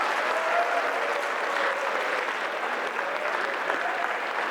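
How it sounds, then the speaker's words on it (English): Steady, dense applause from an audience for Lindsay, a continuous wash of many hands clapping at even loudness throughout, close and full with no break. "Can we give a round of applause to Lindsay?"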